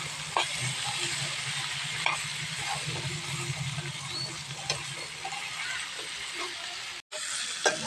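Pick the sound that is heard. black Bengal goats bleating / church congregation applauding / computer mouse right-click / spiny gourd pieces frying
spiny gourd pieces frying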